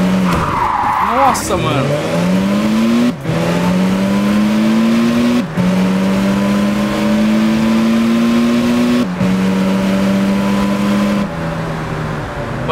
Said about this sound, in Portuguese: fazer drift com um carro desse aqui lá no Japão também é complicado